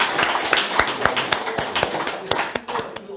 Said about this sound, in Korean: 지금 여러분 격려의 박수 한번 좀 보내주시고